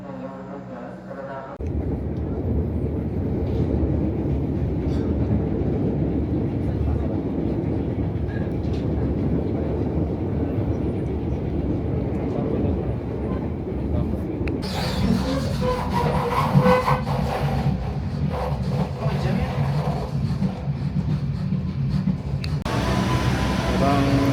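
A KA Bengawan passenger train runs on rails with manual-era equipment, heard from inside as a loud, continuous rumble and roar. The noise brightens and intensifies partway through, and no clear separate clicks stand out.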